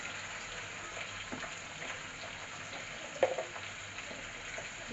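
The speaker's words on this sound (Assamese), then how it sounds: "ভালকৈ পিঁয়াজখিনি ভাজি ল'ম" Onions and a little cumin frying in hot oil in a kerahi wok, giving a soft, steady sizzle with a brief clatter partway through. Fairly quiet and close, with no voices.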